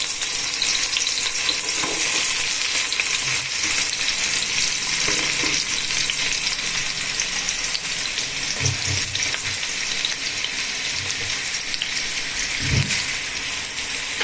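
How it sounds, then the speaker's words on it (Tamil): Onions frying in hot oil for mutton biryani produce a loud, dense, continuous sizzle and crackle, with occasional soft knocks of a spoon against the pan. "ஆனியன் போட்டது எப்படி நல்லா பொரிஞ்சு வருது பாருங்க"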